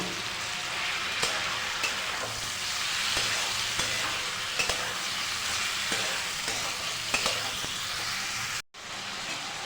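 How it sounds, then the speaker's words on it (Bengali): Chicken pieces frying in a pan give a dense, continuous sizzle with scattered crackles and pops, loud and close throughout and briefly cut out near the end. "চিকেনের পিস ভালো করে ভেজে নেবো"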